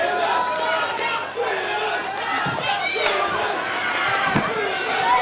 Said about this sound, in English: And now the crowd getting behind Bobby Marshall.